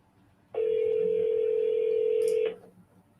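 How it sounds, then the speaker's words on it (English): A single steady telephone tone sounds alone for about two seconds, loud and close, as a salesperson for a lawn mowing business places a call to a customer. "I'm going to jump over and give this customer a phone call."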